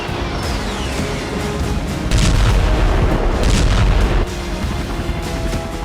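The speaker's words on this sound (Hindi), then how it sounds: "रूस की बाल्टिक फ्लीट इस्कंदर मिसाइलों से हमले का अभ्यास कर रही है।" Iskander missile strikes during a Russian Baltic Fleet exercise at Kaliningrad, a loud, continuous roaring rumble that surges into a heavier, booming stretch midway before easing back to a steady roar.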